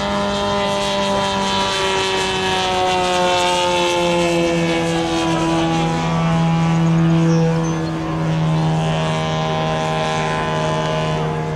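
A 50% scale Christian Eagle RC airplane drones loudly overhead at an air show during knife-edge flight, its engine and propeller holding a steady buzzing tone that slowly shifts in pitch as it passes.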